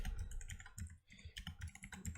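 Rapid typing on a computer keyboard during Python and Django coding in VS Code, a steady run of close, crisp key clicks with a brief pause midway, heard alone.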